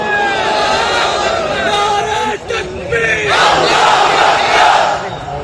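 Large crowd of a Bangladeshi religious gathering shouting slogans together in answer to a takbir call, a loud massed roar that briefly drops and then surges again, with voices overlapping.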